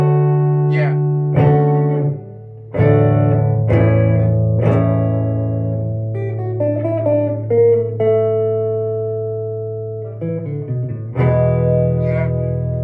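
Electric guitar played through an Ideka Electronics PT2399 reverb pedal, plucked notes and chords with lingering reverb tails, loud and close.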